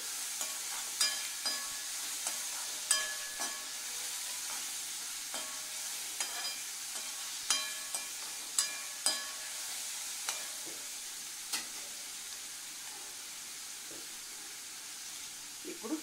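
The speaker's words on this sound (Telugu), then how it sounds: "ఉల్లిపాయని బాగా మగ్గనివ్వాలండి." Onions sizzle gently in a pan for minapa vadiyala curry, with a soft continuous frying hiss broken by repeated sharp scrapes and clinks of a spoon stirring, close and fairly quiet.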